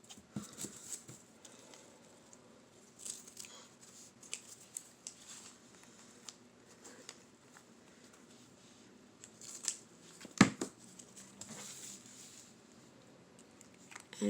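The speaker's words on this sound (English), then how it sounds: "just trim it and cut it off" Scissors snip through lace-trimmed ribbon while finishing a no-sew journal, a few quiet, crisp cuts spaced out over low room noise, with one sharper, louder snip near the end.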